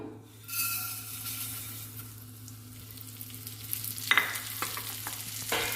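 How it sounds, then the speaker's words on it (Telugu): Vermicelli (semiya) frying in ghee in a pan, a soft steady sizzle with stirring scrapes and a light utensil clink, fairly quiet and close. "ఈ నెయ్యిలోనే సేమియా కూడా వేయించుకుందాము"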